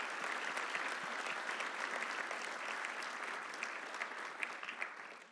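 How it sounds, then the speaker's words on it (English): An audience at a Little Rock, Arkansas business event gives a sustained round of applause, many hands clapping in a dense, even wash that holds steady and fades slightly at the end, with no voices. "Let's please give them a big round of applause and welcome them to Arkansas"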